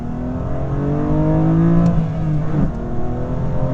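A BMW M2 Competition sports car engine revs loudly and continuously from up close, its pitch climbing and then dipping briefly before rising again.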